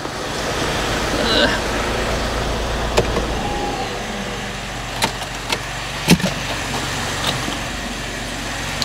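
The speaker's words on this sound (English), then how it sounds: "Let me just turn this bloody Laguna off, see if it quietens down a bit in here. This diesel thing chugging away." A Renault Laguna diesel engine idles nearby with a steady low chugging hum throughout, broken by a few sharp clicks and knocks, while a person talks over it.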